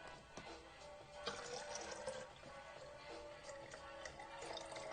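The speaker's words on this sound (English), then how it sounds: "Let's pour it out." A dissolved candy solution poured out into water, a faint continuous liquid splash and trickle with soft drips, recorded close up with no talking.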